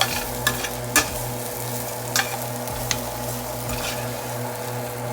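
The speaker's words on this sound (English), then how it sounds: "So you keep stirring." Close, steady stirring of Nigerian Igbo abacha in a cooking pot: a continuous gentle sizzle under a low hum, punctuated by a few light spoon knocks and scrapes spaced a second or so apart.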